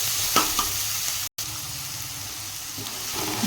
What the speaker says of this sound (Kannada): ಉಳ್ಳಾಗಡ್ಡಿ ಎಲ್ಲ ಚೆನ್ನಾಗಿ ಫ್ರೈ ಆಗಲಿ.